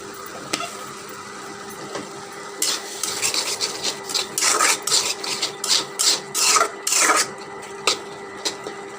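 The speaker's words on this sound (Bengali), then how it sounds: "দেখেন এভাবে আমি নেড়ে চেড়ে একদম শুকিয়ে ফেলবো" A spoon stirring and scraping a thick tomato mixture in a pan, a run of repeated rasping strokes in a steady rhythm, close and clear with no talk.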